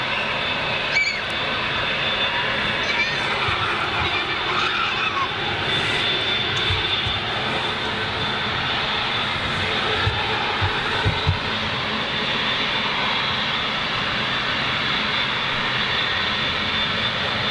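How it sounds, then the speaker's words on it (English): Jet engines of a Ryanair Boeing 737-700 airliner roar as a steady, loud, broadband drone that holds throughout, heard outdoors with no speech over it. "That's not a Max, that's a Ryanair 737-700 or whatever."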